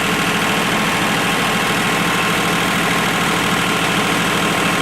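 A John Deere 1050 tractor engine idles steadily and loudly up close, with a constant rough, knocking diesel rumble in cold weather and no talking.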